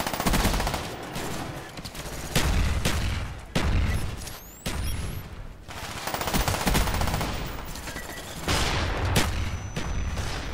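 Sustained automatic gunfire from Call of Duty Black Ops multiplayer, loud and dense, with repeated bursts of rapid shots and a few heavier booms across the whole stretch, no talk over it.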